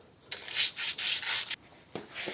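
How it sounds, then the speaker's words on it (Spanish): Sandpaper rasps by hand over the wheel hub of a 2018 Peugeot 5008 during a brake disc change, in three or four short back-and-forth strokes, close and gritty, followed by a couple of faint taps. "Le damos una limpieza al buje, lo lijamos un poquillo"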